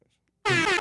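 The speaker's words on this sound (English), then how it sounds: "Give him an air horn real quick" A loud, blaring air horn sound effect cuts in abruptly after a short silence and holds steady at full volume until the end, with no speech.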